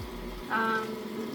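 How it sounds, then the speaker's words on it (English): Water poured into a tourtière filling of leftover breadcrumbs, a brief liquid splash and trickle lasting under a second, close and moderately loud over a quiet kitchen background. "Adding the water."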